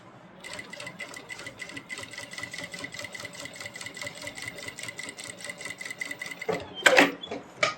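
A domestic sewing machine runs in a steady, rapid stitching rhythm while sewing a kurti collar, close and continuous, ending with a brief louder clatter near the end.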